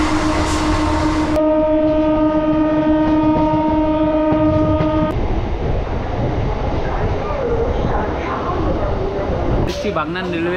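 A local train on the Howrah–Digha line rolls into a railway station, with a long loud horn blast, rumbling wheels and car noise close by, and voices in the background.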